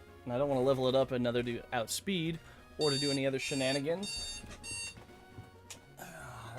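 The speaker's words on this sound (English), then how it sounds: "That's my alarm." An alarm goes off close by, sounding a repeating bright electronic tone pattern while someone talks over it.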